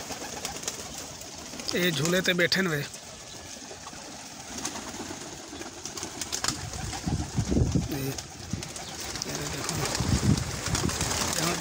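Pigeons in a loft coo in low, rolling calls at several points, with a person talking nearby over a busy background that includes a few rustles and flutters.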